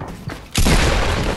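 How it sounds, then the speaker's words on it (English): Fortnite gunfire, a sudden loud blast that cuts in after a quieter moment and carries on as a dense burst of shots, close and forceful. "He's shooting himself right now."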